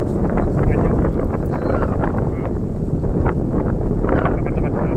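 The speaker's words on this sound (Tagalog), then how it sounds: "Hihina pa ba yung hangin?" Strong wind buffets the microphone with a steady, loud low roar that keeps up without a break.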